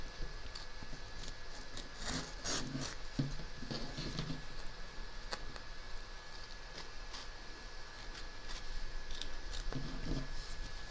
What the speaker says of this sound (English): turn it over and trim around the edge.